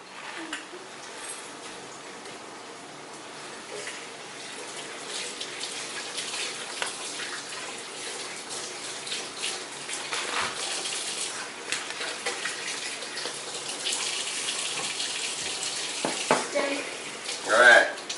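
A kitchen tap runs to rinse out a quarter measuring cup, a continuous close splashing hiss that grows fuller and louder toward the end, with faint clinks of the cup.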